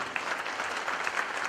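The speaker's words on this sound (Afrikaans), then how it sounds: "Gee die Here weer aan 'n klap." A church congregation claps together in sustained, even applause during a sermon, steady and fairly close throughout with no one speaking over it.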